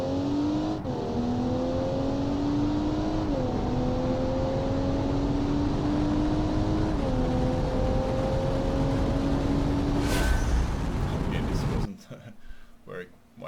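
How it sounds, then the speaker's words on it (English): A car launching and accelerating in the Automation car game, its engine pitch climbing steadily through several gear shifts for about twelve seconds before cutting off, with someone speaking at the end. "So I'm gonna press brake and accelerator."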